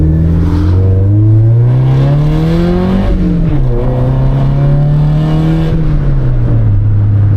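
A 1999 Honda Civic engine revs hard through the gears, its loud exhaust rising in pitch, dropping at a shift, then climbing again, close and continuous.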